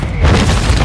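A sniper rifle fires in a video game, one loud, deep boom that fills the brief moment.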